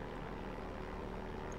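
A plane engine drones steadily in Far Cry 4, a low, even aircraft rumble with no breaks, heard at moderate distance.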